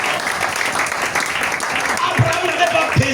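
A church congregation claps loudly and steadily for the whole stretch, with a voice speaking over the dense applause.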